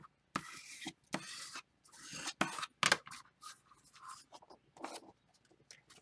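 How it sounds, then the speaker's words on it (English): Paper being folded into a square circle envelope, up close: a series of crisp creasing rubs and sharp scraping strokes in bursts, separated by brief quiet gaps, with no talking. "Let me fold it real well so you can see the fold."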